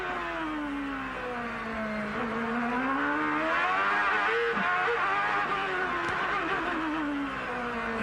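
Open-wheel IndyCar race cars at Surfers Paradise in 1997 scream past at close to 15,000 RPM during qualifying, a loud, continuous high-pitched engine wail rising and falling as cars pass, with no talk over it.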